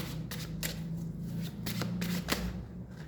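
A favourite deck of tarot cards shuffled by hand, with quick papery riffles and a few sharp snaps and slaps in a quiet room, close and fairly soft.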